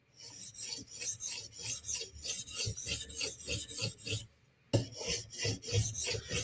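A Steel Will flipper knife blade is drawn across a sharpening stone in quick alternating passes, a dry rhythmic rasping of about a dozen even strokes with one brief pause, close and clear with no talking.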